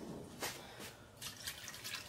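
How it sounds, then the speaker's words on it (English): Tap water runs into a pot of rice on a home stove, a quiet, close splashing trickle with a few brief louder gushes and no talking. "I think I'm gonna put a little bit of more water, guys"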